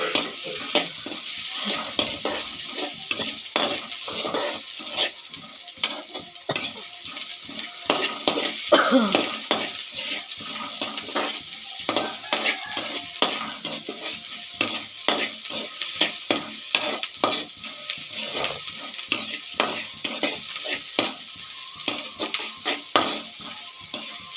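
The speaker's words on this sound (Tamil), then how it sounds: "கொஞ்சம் வெங்காயம் கொஞ்சம் வதங்கட்டும்" Onions sauté in a pan while being stirred, giving an even, close sizzle broken by a long run of rhythmic scraping strokes that continue throughout.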